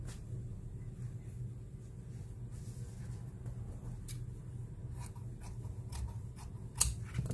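Scissors cut Burberry trench coat lining fabric in a few faint, sporadic snips over a quiet room hum, with one sharper snip near the end.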